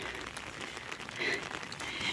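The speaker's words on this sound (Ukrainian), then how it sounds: "дощик такий тихий, тихий, спокійний і вітру нема" Light rain pattering softly and evenly in a quiet outdoor space, with a faint high bird note in the background.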